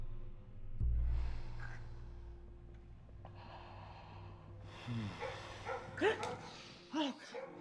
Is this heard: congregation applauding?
no